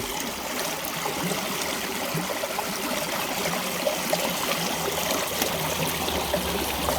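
A creek runs steadily in an outdoor gold-prospecting spot, a continuous broadband rush and trickle of flowing water that stays even and fairly close throughout, with no voices.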